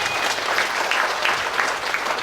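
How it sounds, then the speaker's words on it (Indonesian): Steady applause from an audience at a talk-show style business seminar, dense clapping sustained throughout at a fairly loud level with no voices standing out. "Jadi tepuk tangan dulu tuh."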